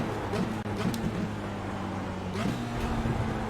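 Formula Renault 2.0 engine in iRacing holds a steady, fairly loud drone with a low harmonic hum, shifting pitch briefly as the car brakes late and runs wide at a corner.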